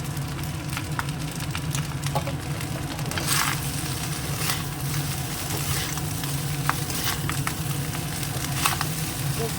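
Ghee drizzled over rice with fried sauce, a steady crackling sizzle running throughout, with occasional sharper pops and spits rising above the continuous frying hiss.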